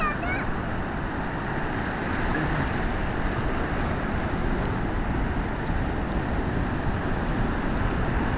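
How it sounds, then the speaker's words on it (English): Big ocean waves break at Ocean Beach, San Francisco, as a steady, loud, broad roar of surf with constant wind noise over the microphone and no clear separate crashes. "here comes some big waves"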